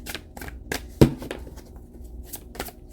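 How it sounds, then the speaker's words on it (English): A deck of tarot cards being shuffled by hand gives a rhythmic run of short, crisp riffling bursts, close by, with one heavier knock of the deck partway through. "3 shuffles, and I'm going to take the 3 cards on the top"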